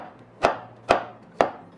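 Mushrooms sliced with a knife on a cutting board make three crisp, evenly spaced chops, close and clear against near silence.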